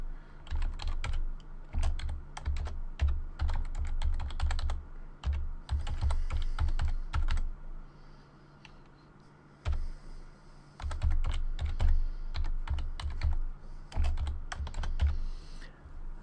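Computer keyboard typing in bursts of rapid keystrokes, entering a command on a Windows 7 machine, with short pauses between runs of clicking keys; close and fairly loud, no talking.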